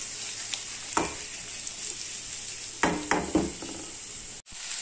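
A spiced mixture fries gently in a pan while being stirred without a spoon, giving a soft sizzle with several distinct scraping and tossing bursts, close and moderately loud, with no talk.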